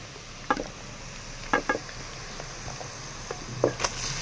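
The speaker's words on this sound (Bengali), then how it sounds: "তারপরে ম্যারিনেট করে রাখা মাংসটা আমি তেলের মধ্যে দিয়ে দেবো।" Marinated home-raised desi chicken pieces hit hot oil in a pan, giving a steady close sizzle broken by a few sharp clinks and scrapes of utensils.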